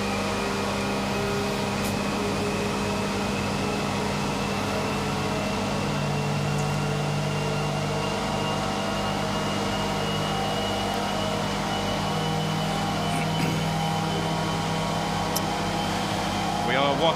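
A large motor runs at the SAQ Grimeton longwave radio transmitter station in Sweden, giving a loud, steady electrical drone with constant tonal hum that holds unchanged throughout.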